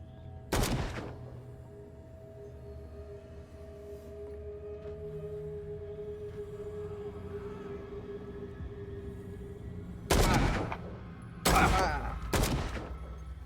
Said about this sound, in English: I try to just shoot into the air.